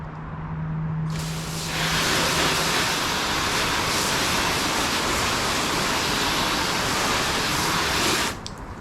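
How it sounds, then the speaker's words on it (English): A hose sprays a steady, loud wash of water across a car's ceramic-coated surface, starting abruptly after a quiet moment and running continuously for several seconds before cutting off. "Okay, so I'm going to rinse this off"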